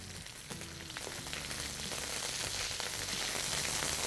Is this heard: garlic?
yes